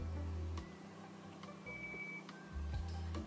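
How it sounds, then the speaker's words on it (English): Electronic door chime in the mobile game Toca Life World, a short high beep tone sounding once over low background hum, with no talking. "It just beeps whenever someone walks through."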